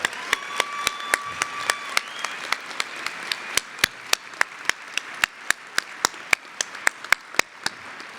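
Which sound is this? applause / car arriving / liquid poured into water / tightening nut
applause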